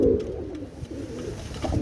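Giribaz high-flying pigeons coo close by, a low rolling murmur that opens strongly and continues in softer repeated pulses over steady background noise.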